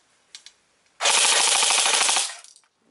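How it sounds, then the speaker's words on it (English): An iGNiTE Black Ops Dual Power Cottonmouth KA-74 BB gun fires on full auto: a couple of faint clicks, then a loud rapid burst of shots lasting over a second, rattling close and tapering off. "Let me put it to full auto."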